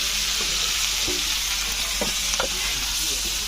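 Fish coated in flour, masala and salt fries in a pan with a steady, loud hiss of sizzling oil, and a few soft clinks and stirring knocks come through the sound of the frying.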